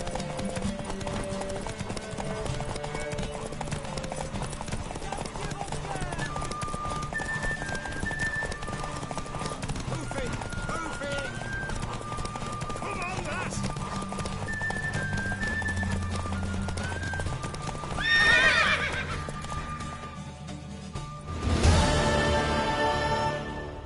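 A horse in The Witcher 3 trotting with steady rhythmic clip-clop hoofbeats under a game music score, followed near the end by two loud whinnies.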